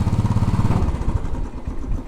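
A Royal Enfield Bullet 500 single-cylinder motorcycle riding on Fifth Avenue in New York City on a cold day, a loud, close engine thump with a steady low pulsing note and mechanical clatter throughout.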